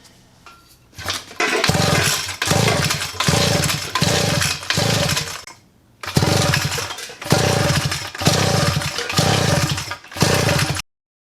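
A 66cc Chinese two-stroke engine swapped into a junkyard pocket bike sputters and catches in several bursts, running in loud raspy pulses that rise and fall before cutting out, revving again and then stopping.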